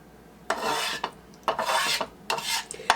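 A metal utensil scrapes and smears creamed spinach casserole topping across a stand pan, coming as three rasping spreading strokes of about half a second each with short pauses between, close up, with no talk.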